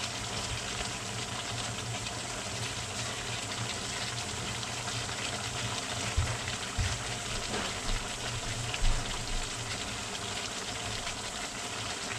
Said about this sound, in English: I'll be adding a little water.